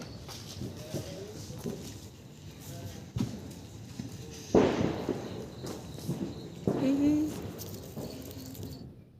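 Firecrackers and fireworks go off on New Year's night, with several loud bangs and crackling bursts, the strongest near the middle and later, over background voices and chatter.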